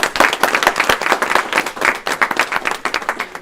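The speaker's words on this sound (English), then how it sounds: "Again, a round of applause." Attendees at a school board of education meeting give a round of applause, a crowd of hands clapping in quick, irregular bursts at moderate volume that taper slightly toward the end.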